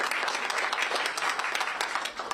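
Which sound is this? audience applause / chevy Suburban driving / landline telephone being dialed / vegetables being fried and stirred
audience applause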